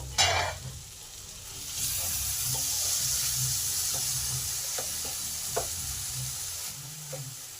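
Spices and tomato sauté in a pan with a steady sizzle, broken by scattered clicks of stirring and a sharp scrape near the start.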